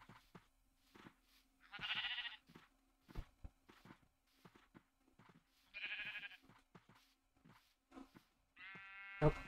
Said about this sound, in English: No sheep left behind.